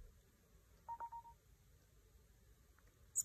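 A short, faint three-note notification chime sounds once as a file arrives by AirDrop on an iPad, close but quiet against a hushed room background.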